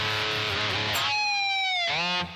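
Budget electric guitar strung with its original factory strings plays a couple of sustained notes that bend and glide in pitch, ringing brightly and up close.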